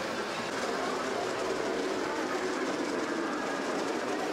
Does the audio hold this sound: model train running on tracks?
yes